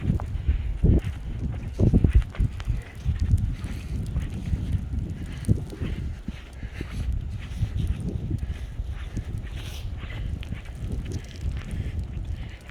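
Footsteps crunch through snow about 14 inches deep with drifts, outdoors during a snowstorm in Queens, New York; a steady series of soft, muffled compressions sounds close by under light wind.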